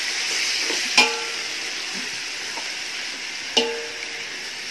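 Chicken pieces stirred into a hot pot for Kerala-style chicken biriyani (surubi), steady sizzle and frying hiss throughout with two sharp metal clanks of a spoon against the pot, no talking.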